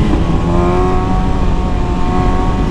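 A BMW S1000 motorcycle engine revs loudly and steadily up close, a dense, continuous roar with a strong harmonic drone that holds without pause.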